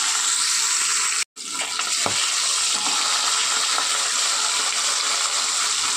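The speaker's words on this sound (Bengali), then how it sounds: "তেল গরম হয়ে গিয়েছে, এবার মাছগুলো একে একে ছেড়ে দেবো" Hilsa fish pieces sizzle in hot oil, a dense, continuous hiss with faint crackles, close and steady, briefly broken by a momentary gap.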